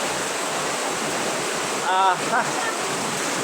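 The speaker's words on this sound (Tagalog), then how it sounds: "Ayan, oh, ang lakas na ng agos." Floodwater rushes in a strong current during heavy rain, a steady broadband roar close by, with a brief voice rising over it midway.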